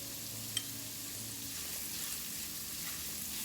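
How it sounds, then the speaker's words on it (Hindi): Grated cauliflower sautés in a hot pan with crackled cumin, chili, ginger and turmeric, giving a soft, steady sizzle that stays even throughout with no talking. "So we need to saute the cauliflower for a minute."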